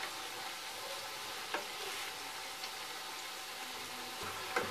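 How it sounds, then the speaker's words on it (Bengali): Onion pakoras, Bengali piyaji, deep-fry in oil over a medium flame, giving a soft, even bubbling sizzle throughout with a few faint utensil clicks, quiet and without speech. "মিডিয়াম ফ্লেমে এগুলোকে আমরা লাল করে ভেজে নেব।"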